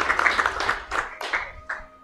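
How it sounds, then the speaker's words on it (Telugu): A church congregation claps together in a quick rhythmic run of claps that thins out to a few separate claps, close and fairly loud. "చప్పట్లు కొడదాం"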